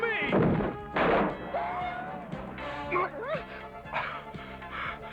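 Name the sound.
dog barking in a cartoon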